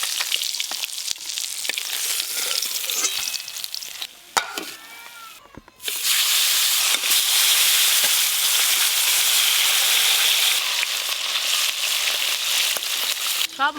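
Tilapia fish fry in hot oil with a loud, steady sizzle and crackle that run throughout, briefly dipping midway before surging back at full strength.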